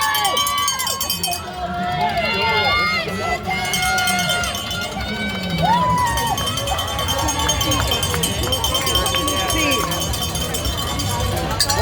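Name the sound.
crowd cheering marathon runners in downtown Chicago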